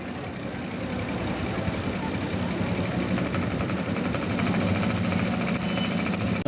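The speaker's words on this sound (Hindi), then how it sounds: "ये बैन की दूसरी साइड पे सिलाई लग रही है।" Sewing machine stitching along the band of a men's kurta, a steady continuous motor hum and mechanical rumble running throughout without pause, close and moderately loud with no speech.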